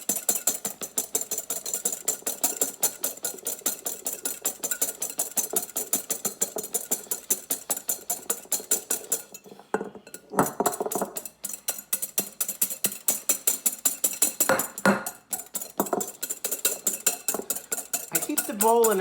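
Eggs being whisked in a bowl for a soufflé omelette, a fast steady rhythmic clatter of whisk against the bowl that carries on throughout, briefly pausing and shifting as the bowl is tilted, with no talking.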